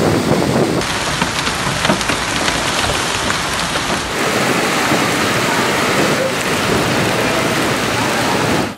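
Heavy rainstorm with hail pounding down in Konya, a dense, steady roar of downpour on surfaces with faint low rumbles, loud and continuous throughout without any voices.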